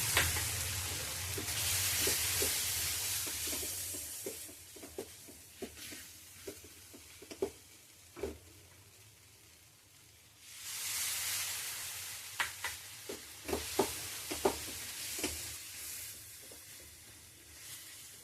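Milk poured a little at a time into browned, roasted gram flour for mohanthal, crackling and sizzling in the pan, with intermittent soft stirring scrapes, the hiss swelling twice as more milk goes in.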